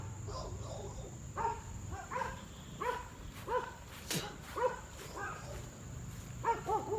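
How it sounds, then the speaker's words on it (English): A dog barks in an alley near abandoned houses, giving a regular series of short, moderately distant barks about one every second, over a faint outdoor hum and insect-like buzz. "It's a dog right there."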